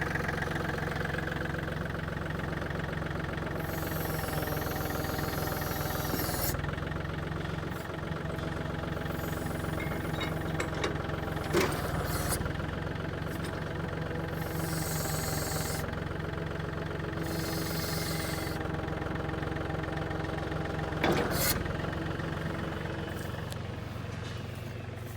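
A tractor engine idles steadily at medium distance with a Reach flail mower attached, giving a continuous rumbling drone broken by a few brief clanks and bursts of hiss.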